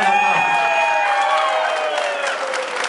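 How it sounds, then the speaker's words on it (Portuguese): A crowd at an anniversary festival coronation ceremony claps and cheers loudly, with whoops and shouts over the applause, which eases slightly toward the end. "Gostaria que todo mundo saudasse com uma salva de palmas a Ivete Krišavski, campeã da Copa."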